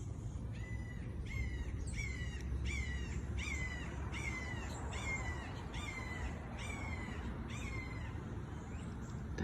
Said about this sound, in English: this red-shouldered hawk. He always calls to me when I'm out here.